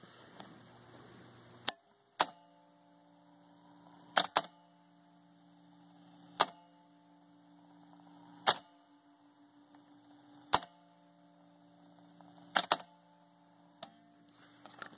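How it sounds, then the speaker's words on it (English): The solenoid in a Delco Wonderbar car radio tuning mechanism resets with sharp, isolated clicks every second or two as the dial travels, each snap standing out over a faint steady mains hum. "If you listen, you'll be able to hear solenoid one resetting as the dial moves across."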